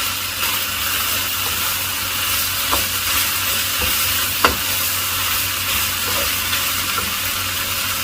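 Capsicum and cabbage being stir-fried as spring roll filling, making a steady, fairly loud hiss of sizzling with a few faint scrapes of stirring and no voices.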